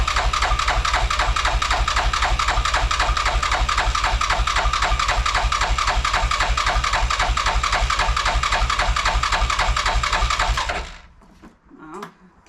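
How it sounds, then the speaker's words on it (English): The new starter on a Yamaha Rhino 660 cranks its engine in a fast, steady mechanical chug that runs loudly and without a break for about eleven seconds, then stops abruptly, leaving faint handling noises. "we're ready to turn the key for the first time with the new starter"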